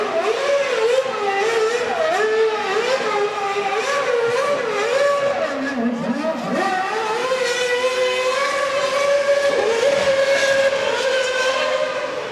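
A Red Bull Formula One car runs at a motorsport festival, its engine giving a loud, sustained high-pitched whine. The pitch rises and falls repeatedly as the car changes speed, with one deeper dip midway.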